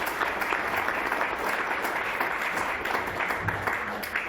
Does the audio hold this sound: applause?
yes